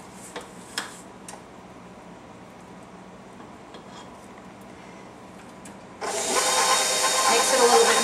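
An electric hand mixer beats peanut butter cup cookie batter in a bowl, starting loud and steady with a broadband whir in the last two seconds after quieter kitchen clicks and handling sounds.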